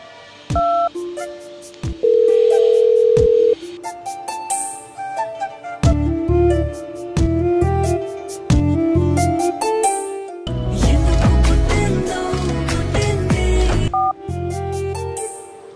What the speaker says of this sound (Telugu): ఒకసారి హారిక కాల్ చేసి చూద్దాం.